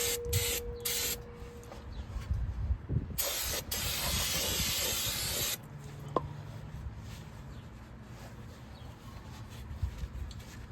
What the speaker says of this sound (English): I just give it a good spray all the way around